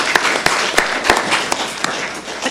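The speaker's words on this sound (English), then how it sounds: "We can clap for that." Audience clapping at a county commissioners meeting, a brief round of scattered applause from a room of people, fairly close and steady for a couple of seconds.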